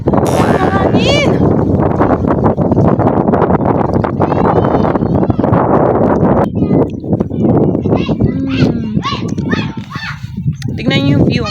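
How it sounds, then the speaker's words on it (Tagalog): Strong wind gusts batter the microphone outdoors with loud, continuous buffeting, while people talk throughout and children's voices come through. "Mahangin!"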